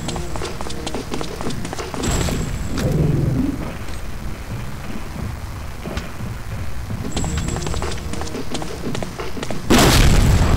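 Grenade explosions in the video game Black Shades, deep rumbling booms that roll out over a noisy bed of game sound. Sharp bursts come near the start, around the middle and again at the end.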